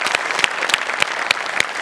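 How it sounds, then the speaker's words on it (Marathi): A TV comedy show audience claps loudly, a steady burst of applause with sharp individual claps standing out, close and continuous with no talk over it. "मस्त, जोरदार टाळ्या"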